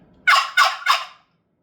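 A wild turkey lets out a loud, close gobble in three rapid rattling bursts, then stops, leaving near silence.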